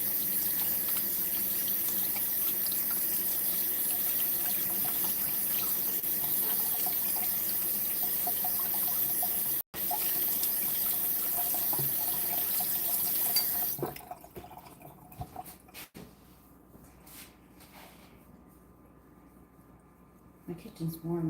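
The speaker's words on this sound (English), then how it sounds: "I'll wash my hands" A kitchen tap runs steadily as hands are washed beneath it, a loud continuous water rush that stops abruptly partway, leaving quieter drips and small sink sounds.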